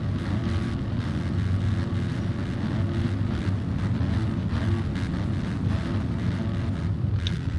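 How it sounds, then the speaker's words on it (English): Motocross bike engines in a motocross video game: a steady, dense engine drone holding at the same level throughout, continuous and fairly loud with no talking. "Can you guys hear the bikes pretty well?"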